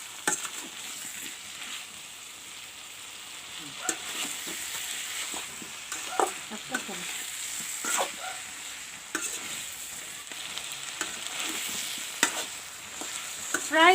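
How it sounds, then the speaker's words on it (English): Cauliflower frying with masala in a pan, a steady close sizzle broken by repeated scraping clicks of a spatula stirring through the pieces, with no talking. "fry the cauliflower and the masala together nicely."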